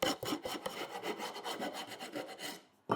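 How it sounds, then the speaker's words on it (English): Thin wood veneer pieces filed down on a block, a quick run of close, dry rasping strokes in an even rhythm, fairly quiet, with no voices. "I'm filing them down to a hair above the surface of the block"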